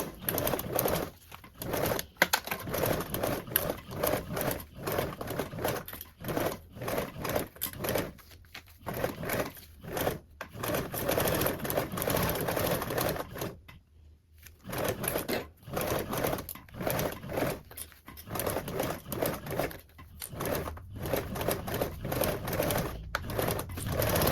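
A sewing machine stitches a zipper into a toiletry bag, running in repeated rapid bursts of mechanical chatter broken by short pauses as the fabric is turned around a curve, fairly close and steady.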